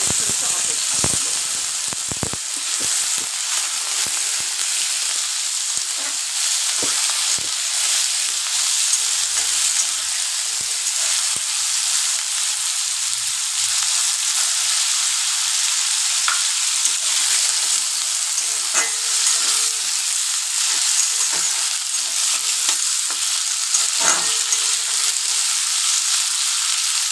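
Potatoes fry in hot oil in a pan for pumpkin-potato curry. A steady, loud sizzle hisses throughout, with occasional stirring clinks and no speech.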